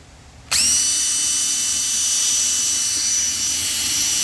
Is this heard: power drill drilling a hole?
yes